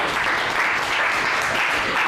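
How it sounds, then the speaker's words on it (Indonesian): Classroom applause for a student during a religion lesson: a steady, dense wash of many hands clapping together, continuous and fairly loud throughout with no talking over it. "Beri tepuk tangan untuk Kean."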